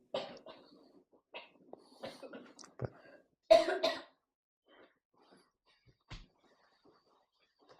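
A child coughs several times in short, sharp bursts during a quiet maths lesson, with one louder cough mid-clip and fainter ones afterward, mixed with brief speech.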